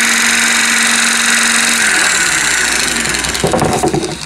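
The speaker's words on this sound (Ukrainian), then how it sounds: "Ось вентилятор крутиться" Air conditioner fan in a Passat car spinning with a steady close whirring hum that shifts pitch slightly, then a rattly flutter near the end.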